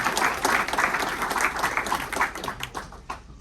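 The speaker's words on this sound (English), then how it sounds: "please give her a round of applause" Applause from a crowd at a Rotary club meeting, welcoming a speaker's wife; lively, uneven clapping that stays fairly close and tapers slightly toward the end, with no talking over it.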